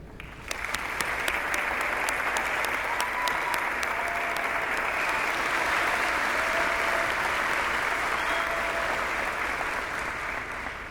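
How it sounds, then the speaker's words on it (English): A large commencement audience applauds the graduating class of 2019 at South Fayette High School, a dense, sustained wash of clapping that holds steady for about ten seconds with a faint tone drifting underneath. "I would like to ask for a round of applause to the graduating class sitting before you"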